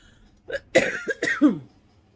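A woman coughs in a short close burst of three or four rough, throaty coughs, alone against a quiet background.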